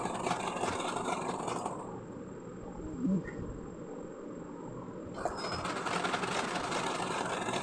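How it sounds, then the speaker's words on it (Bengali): Sewing machine stitching pajama pants, a steady close mechanical whirr that runs continuously with a brief quieter stretch in the middle before resuming at full rate, no talk. "এইভাবে করে আমি সেলাই করে নিচ্ছি পুরোটা।"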